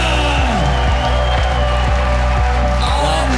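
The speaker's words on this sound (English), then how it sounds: "The crowd basically showering Patrik Pietilä with applause and cheers" Hometown MMA crowd at a CAGE 55 event roars with applause and cheers for fighter Patrik Pietilä, a loud sustained wall of clapping and shouting, with a ring announcer's voice sounding over it.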